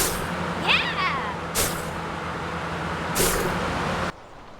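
New York City traffic ambience in the Spider-Man 2 video game: a continuous road rumble with two sharp hissing air-brake bursts, a faint chirp near the start, and the bed cutting out abruptly at the end.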